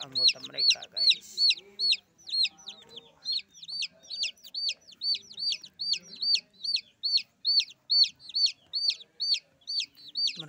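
Chickens give a continuous run of rhythmic, high-pitched clucks and chirps in fairly quick succession, close and clear against an otherwise quiet background with no talking.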